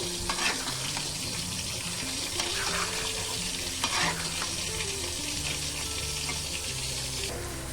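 Taro stolon and shrimp curry stirred in a wok, a steady sizzle with repeated scraping strokes of the spoon against the pan throughout, close and continuous.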